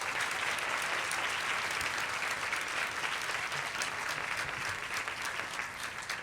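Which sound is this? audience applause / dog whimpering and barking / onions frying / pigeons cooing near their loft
audience applause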